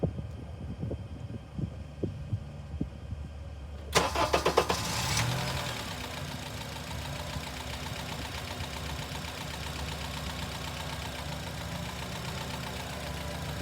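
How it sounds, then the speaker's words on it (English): A Honda car engine with VTC variable timing cranks and catches with a sharp burst after a few seconds of quiet knocking, then settles into a steady, even running drone that continues to the end. "We're going to start the car, and I will get the RPM up and get the load up"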